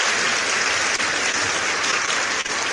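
Steady, dense canned applause fills the whole stretch, loud and unbroken.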